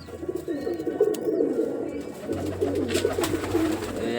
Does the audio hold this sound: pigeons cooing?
yes